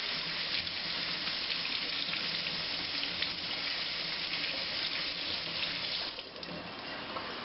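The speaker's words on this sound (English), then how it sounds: "Now I'm going to start to wash the green onion." Tap water runs steadily while green onions are washed under it, a continuous close hiss of flowing water with no pauses and no talking.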